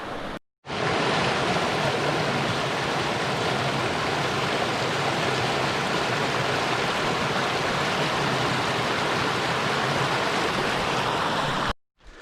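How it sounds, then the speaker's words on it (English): Cascades of Post Oak Creek in the Wichita Mountains rush in a loud, dense, continuous roar of falling water heard up close, steady from start to finish apart from brief gaps at either end. "There's a lot of nice cascades running here in"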